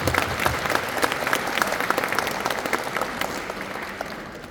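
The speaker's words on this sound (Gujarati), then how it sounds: "એકવાર જોરદાર તાળીઓ થઈ જાય" Loud sustained applause from an audience at a farewell ceremony for retiring English teachers, steady dense clapping throughout with no talk over it.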